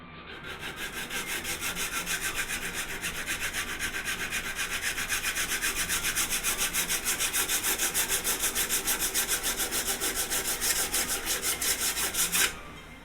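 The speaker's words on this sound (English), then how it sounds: "Get yourself a daggone sanding block." Steady, rhythmic rasping of a sanding block scrubbed back and forth over wood, close and continuous for about twelve seconds before stopping abruptly.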